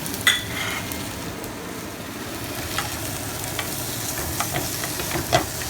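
Chopped onion and carrots sauté in a hot pan for a chicken and rice bake, giving a steady, close sizzle broken by a few sharp stirring scrapes.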